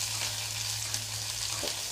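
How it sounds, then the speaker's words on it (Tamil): Onions sautéing in hot oil with dried red chillies in a pan, a steady close sizzle with a faint stirring scrape near the end, no voices. "அதையும் நல்லா வதக்கி விட்டுட்டு வெங்காயம் போட்டுக்கோங்க."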